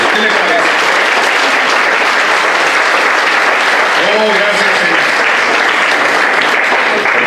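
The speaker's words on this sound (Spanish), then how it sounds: "vamos a aplaudirle todos al tiempo al Rey de Reyes" A church congregation claps together during a sermon, a dense, steady wash of applause filling the room for the whole stretch, with faint sung or spoken tones underneath.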